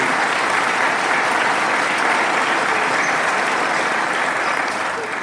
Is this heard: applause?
yes